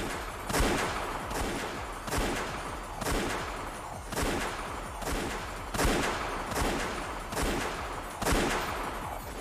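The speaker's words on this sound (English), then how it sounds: "As soon as I heard the sound of repeated gunfire" Bursts of gunfire in the video game Umineko: When They Cry repeat at a regular pace, each volley sharp and loud with a brief rolling tail, roughly nine in a row.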